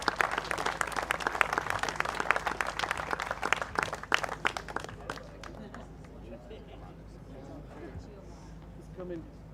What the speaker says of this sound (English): Let's give the guys a big round of applause.